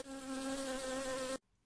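A honeybee buzzes in a steady, even drone that holds close and loud for over a second, then cuts off abruptly into near silence.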